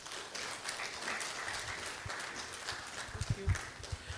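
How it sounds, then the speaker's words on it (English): Applause from an audience at an investment forum, following a welcome address; steady moderate clapping with a few louder thumps near the end, no voices. "Another round of applause for Mr. Peter Ashade, the Group Chief Executive Officer at United Capital"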